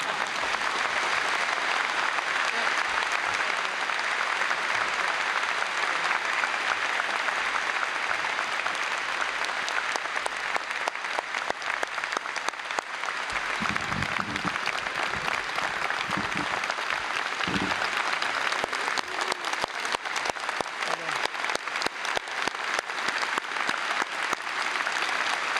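A large audience at a 2006 University of Washington freshman convocation gives sustained, dense applause, a long even roar of clapping with scattered voices briefly rising midway through.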